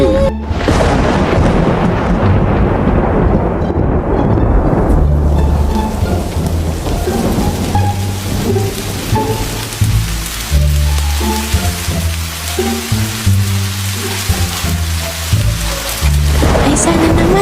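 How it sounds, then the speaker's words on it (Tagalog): A typhoon thunderstorm in an animated scene: heavy steady rain pours loud and close while deep thunder booms and rumbles through the first seconds, then rain continues under a low tonal music bed. "sana naman hindi masyadong malakas ang bagyo na yan"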